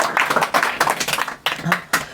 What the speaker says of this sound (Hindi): 19 को 19 क्वेश्चन पे आप लोग ताली बजाइए